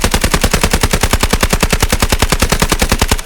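A video-game gun build fires long sustained automatic bursts, a loud, evenly spaced rapid stream of shots without a break, close and punchy.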